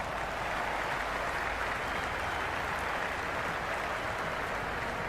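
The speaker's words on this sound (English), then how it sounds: "the crowd have joined the party. It's pretty noisy in the ground." Dense, steady cheering and applause from a packed crowd at a women's cricket stadium during a tense playoff eliminator match, a loud continuous roar filling the whole stretch without pause.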